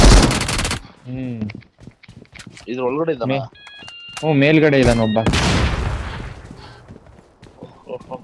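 Gunfire in the mobile battle royale game BGMI crackles in sharp bursts at the start and again midway, loud and near, while players chat over it.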